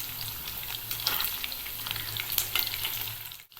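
Marinated chicken 65 pieces dropped one by one into hot oil, a loud close crackling sizzle with bursts of spitting and light stirring, cutting off abruptly near the end.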